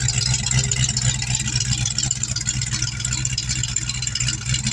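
A 1990 Ford Mustang LX engine idles steadily and evenly, a constant low rumble with a smooth, unbroken drone throughout and no voices.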